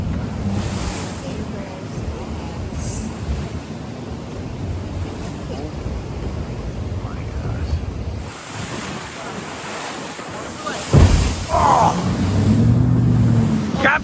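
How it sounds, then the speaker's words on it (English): Huge ocean waves surge and crash around a sailboat at sea, a steady roar of surf and heavy wind buffeting the microphone, with a louder breaking wave near the end and a voice briefly calling out. "We're coming out of these huge waves."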